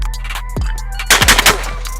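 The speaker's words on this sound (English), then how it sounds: "That was about as fast as I believe I can shoot and hit clays." Mossberg shotgun fired rapidly at clay targets outdoors, a quick string of loud sharp blasts in close succession, the last shots bunched within about half a second, with no voices.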